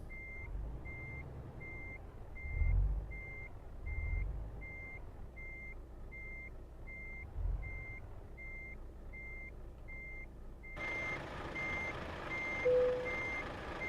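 Reversing beeps from a truck in Euro Truck Simulator sound as a steady, evenly spaced series of about twenty beeps over a low idling engine rumble, with a loud hissing burst near the end.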